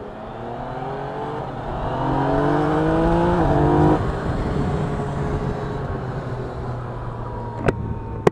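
A Yamaha Niken three-wheeled motorcycle, using the same engine as the MT-09, revs up and rises in pitch, then eases off into a steady drone, heard close and loud with no talking.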